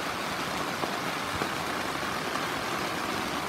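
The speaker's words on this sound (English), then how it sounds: "Thought I'd let you listen to the rain." Steady rain falls outside a Eureka No Bug Zone 3-in-1 tent at dawn, a dense even hiss with occasional faint drips, constant and moderately loud with no voices.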